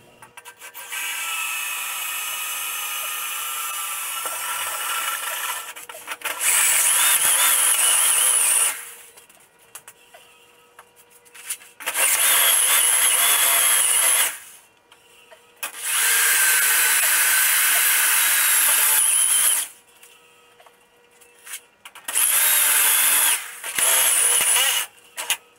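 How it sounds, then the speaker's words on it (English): Power drill with a worn step bit cutting holes into a golf cart panel, loud close grinding bursts of several seconds each separated by quieter gaps, repeated four or five times. "I think we're going to go ahead and drill out what I just drew on there."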